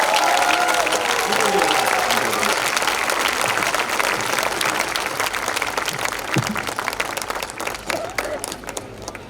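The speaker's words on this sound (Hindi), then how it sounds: "जोरदार तालियों के साथ बुलाइए।" A large crowd at a Hindi comic poetry gathering applauds loudly and continuously for a poet, the clapping slowly fading toward the end, with a voice faintly heard early on.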